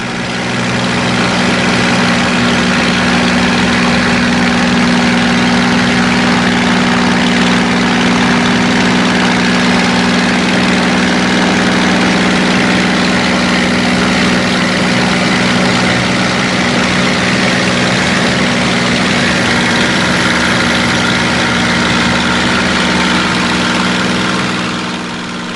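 A Spitfire's piston aero engine drones steadily and loudly through an air display flight, a continuous close, heavy roar with a low, rumbling hum that barely changes in pitch or level.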